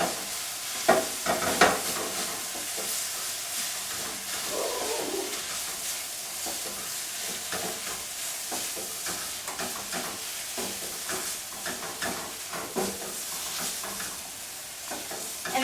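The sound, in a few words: mixing Philly cheesesteak ingredients in a sizzling pan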